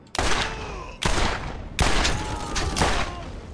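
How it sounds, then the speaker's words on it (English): Gunfire in the video game Borderlands: several loud, close bursts of shots with sharp onsets, separated by brief pauses and mixed with ringing game effects. "Who's shooting? Oh, you."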